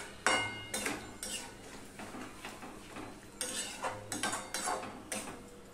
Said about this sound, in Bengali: তখন মিডিয়ামে দিয়ে আমি এইভাবে নাড়তে থাকবো।